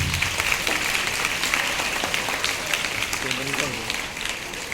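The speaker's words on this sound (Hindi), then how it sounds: "जोरदार ताली बजाकर उनका स्वागत कीजिए" Loud, dense applause from an audience welcoming new teachers at a Children's Day school event, steady clapping throughout with no voices over it.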